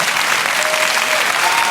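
A large audience at the Olympia in Paris applauding Gérard Miller, a dense, loud, continuous wash of clapping with no let-up.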